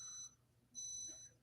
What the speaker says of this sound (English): Oops, there's my microwave. Hold on a second. It's still beeping.